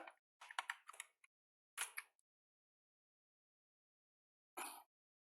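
Short bursts of computer keyboard typing, clicking in quick clusters close to the microphone, separated by silent gaps before a final brief burst.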